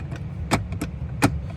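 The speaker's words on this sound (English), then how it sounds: "It's just a latch, if you can hear it, and it feels super cheap." A cheap latch on a 2026 Tesla Model S is wobbled back and forth, giving two sharp plastic clicks and a fainter rattle in between over a steady low cabin hum.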